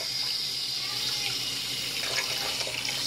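A tap runs in a continuous steady stream for rinsing, close and fairly loud, with faint splashing as a finger is rinsed under it.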